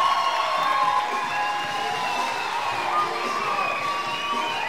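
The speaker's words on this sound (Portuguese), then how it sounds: "uma salva de palmas para Di Lopes" Audience at a stand-up comedy show in Curitiba applauding and cheering loudly and steadily, a dense wash of clapping and shouting with no talk over it.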